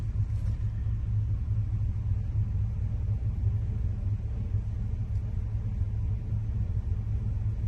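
A 5.3L V8 truck engine idling smoothly, a steady, even low rumble heard close and continuous throughout, with no talk.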